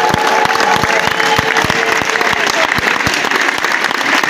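A church congregation applauds during a worship service with loud, dense, sustained clapping from a large crowd, continuing throughout.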